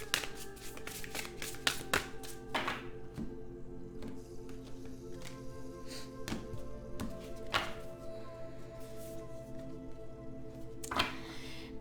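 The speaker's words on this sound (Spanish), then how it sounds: "vamos a barajar este maravilloso oráculo" Oracle cards are shuffled by hand in quiet, close, repeated riffles and soft slaps, with brief taps between bursts at low volume.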